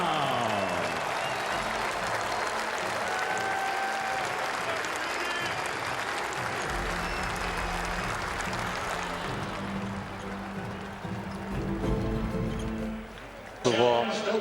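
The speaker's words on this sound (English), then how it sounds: "Please give a warm round of applause to Naismith Basketball Hall of Famer, NBA and broadcast legend," A warm round of applause for Naismith Basketball Hall of Famer and broadcast legend Hubie Brown fills a hall, sustained and dense for several seconds before tapering, with a voice heard over the crowd.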